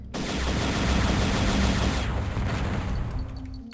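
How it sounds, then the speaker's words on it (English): Rapid, dense bursts of plasma cannon fire in the video game Descent crackle and boom in a continuous barrage, then taper off with a low electronic hum. "You really like those plasma cannons."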